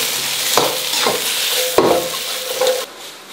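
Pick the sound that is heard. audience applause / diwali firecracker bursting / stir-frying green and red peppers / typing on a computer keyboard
stir-frying green and red peppers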